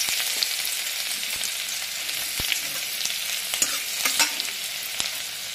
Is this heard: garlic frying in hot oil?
yes